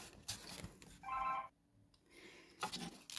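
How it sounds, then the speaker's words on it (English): A telephone rings faintly in a crafting room, short bursts of electronic ringing tone broken by clicks and soft handling noises, heard alone. "I just had to answer the phone"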